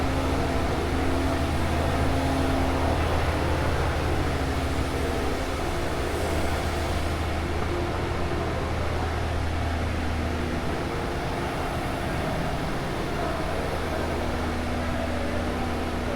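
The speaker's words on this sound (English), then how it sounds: "And this machine is 60 meters milling machine." A large 60-meter milling machine with five cantilever beams runs inside a workshop that builds laser cutting machines, giving off a steady mechanical drone with low tonal hum and faint shifting whines, continuous and unbroken, with no talk.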